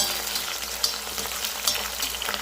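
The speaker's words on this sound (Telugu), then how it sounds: "ముందుగానే దొండకాయ అయితే ఫ్రై చేస్తున్నాను" Ivy gourd (dondakaya) pieces fry in oil in a pan for a biryani, giving a steady, close crackling sizzle with a few brighter pops and light stirring, with no talking.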